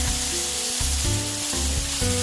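Bulgogi beef stir-fried with minced garlic and sugar in a pan over medium heat, a loud continuous sizzle with rhythmic scraping and stirring strokes every half second or so, close and without speech.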